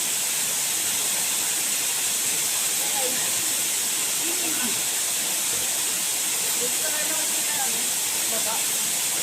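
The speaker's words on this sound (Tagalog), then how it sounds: "Abi, ito ba yung waterfall?" A waterfall roars as a steady, loud, broadband rush that fills the scene without letup, with people talking faintly underneath.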